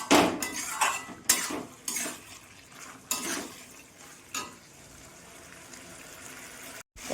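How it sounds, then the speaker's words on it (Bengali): Spice paste being stirred and sautéed in a pan for a Bengali ridge gourd and small shrimp dish, a series of scraping and clinking strokes of a spoon against metal over a soft sizzle, moderately close. "মশলাটা আমি একটু ভালো করে কষিয়ে নেব।"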